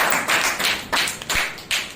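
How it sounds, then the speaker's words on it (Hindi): A church congregation at a Wednesday service claps together, a dense crowd of hands rising in a few loud surges over two seconds with no voices on top. "एक जोरदार ताली बजाइए।"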